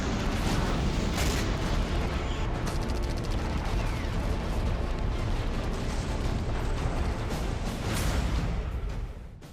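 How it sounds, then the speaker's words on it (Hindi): Heavy explosions and artillery-like blasts in Russia-Ukraine war footage, a continuous loud roar of booms with sharp crackling bursts near 1.3, 2.5 and 8 seconds, no talk. "धरती फाड़ धमाके"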